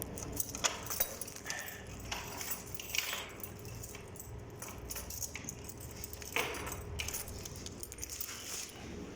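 Keys jangling and scraping against a broken doorknob as different keys are tried, a series of close metallic clinks and rattles in irregular bursts over quiet room noise.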